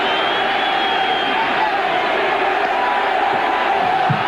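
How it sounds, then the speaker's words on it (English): Baseball stadium crowd at a 1998 Orioles game cheering in a steady, dense roar that holds at a constant level for a few seconds, with voices mixed into the noise. "Crowd's enjoying it."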